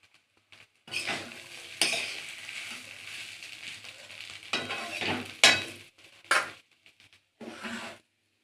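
Flat beans frying in oil, with stretches of sizzling interrupted by scraping stirs and occasional utensil knocks against the pan, starting and stopping in uneven bursts.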